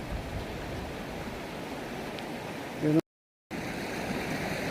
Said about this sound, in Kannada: ನೀರು ಹರಿತಾ ಇದೆ ಒಳ್ಳೆ ನೀರು